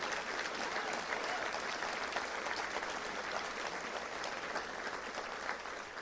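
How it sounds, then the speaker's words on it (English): At a touchdown club luncheon, an audience gives volunteers a sustained round of applause, a dense, even patter of many hands clapping at moderate distance with no talk over it. "Let's give them a round of applause"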